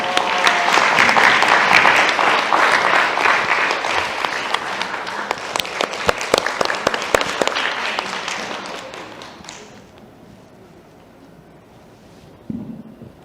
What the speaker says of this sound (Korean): 과연 쉰스터 작가님은 어떤 전쟁을 치르고 계시는지 박수로 맞이해 주십시오.